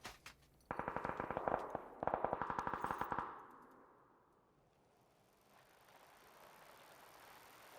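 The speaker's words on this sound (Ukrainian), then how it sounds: "Там авік стріляє." Two rapid bursts of automatic rifle fire in PUBG, sharp and evenly spaced, followed by a quiet, fading hum of background noise.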